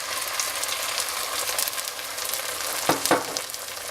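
Onion and ground beef fry over very high heat in a pan, giving a steady, moderately loud sizzle with a couple of short stirring knocks near the end.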